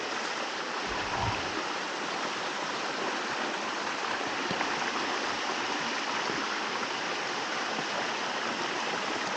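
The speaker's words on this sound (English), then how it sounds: "there is the stream" A stream in Sardinia flows steadily with a constant rushing, bubbling wash of water, even and close, with no voices.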